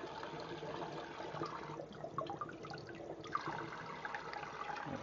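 Steady running water from a kitchen tap splashing over a salmon fillet being lightly rinsed, a continuous moderate hiss and trickle with small irregular splashes.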